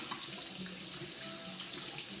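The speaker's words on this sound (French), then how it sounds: "je commence comme d'habitude par me laver les mains" Hands being washed under a running kitchen tap before cooking, a steady faint splash and hiss of water into the sink, with no voices.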